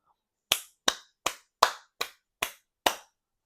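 Seven sharp hand claps ring out one after another at a slightly uneven, roughly even pace, each crisp and close against an otherwise silent background.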